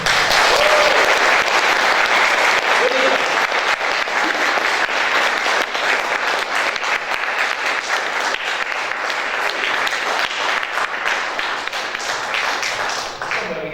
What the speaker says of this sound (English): I think, a big round of applause.